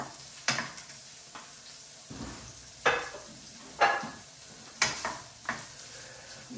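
Chicken drumsticks cooking in a pan for breakfast burritos, with a steady sizzle punctuated by several sharp scraping stirs spaced unevenly through the stretch, close and moderately loud with no talking.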